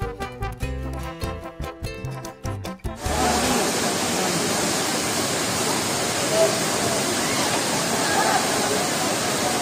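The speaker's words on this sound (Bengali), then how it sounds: "খুব ঠান্ডা জল, একদম ওপর থেকে পড়ছে।" Steady roaring rush of a waterfall at Mussoorie with very cold water dropping from high above, loud and continuous, following a few seconds of other sound before it.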